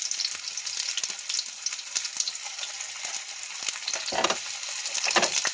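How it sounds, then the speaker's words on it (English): Grease sizzles and fries steadily in a pan, with sharp pops and crackles scattered through it and a few louder spits near the end, close and alone with no talk. "Why is the grease always trying to pop me?"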